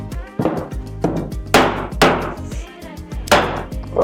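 Hammer blows strike ash wood during cabinet making, about six loud, sharp, close knocks at an uneven pace with quiet pauses between them.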